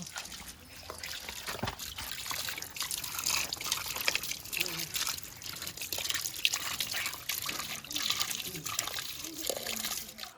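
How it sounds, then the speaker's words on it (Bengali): Pieces of snakehead fish being rinsed in water, with trickling, splashing and handling sounds at close range, fairly quiet and uneven throughout. "মাছগুলো এবার ভালো করে ধুয়ে নেব।"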